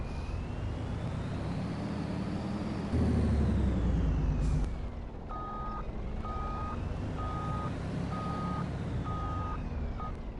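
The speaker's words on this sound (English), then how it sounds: "The beeping backing up might drive people a little batty" A semi truck backing up in the Farming Simulator video game, its engine rumbling steadily while a loud reversing alarm beeps in an even rhythm of about six pulses, with no talk.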